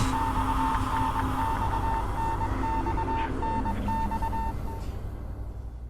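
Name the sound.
beeping in a video game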